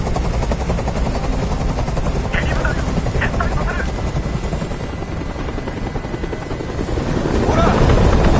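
Loud, continuous helicopter rotor thump and turbine whine hovering close overhead in the video game Detroit: Become Human, swelling near the end, with faint game sounds mixed in.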